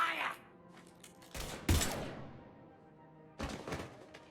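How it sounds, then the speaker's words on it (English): Bursts of gunfire in the video game Mass Effect 3 come as a few heavy, close blasts and thuds, one especially loud, separated by short decaying gaps with faint background ambience. "Now open fire!"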